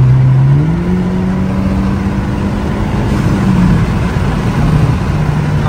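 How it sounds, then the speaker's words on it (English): A car engine runs loud and close from inside the cabin, its pitch climbing as it revs and accelerates, then holding a steady drone. "I'm about to show y'all the power of this car a little bit."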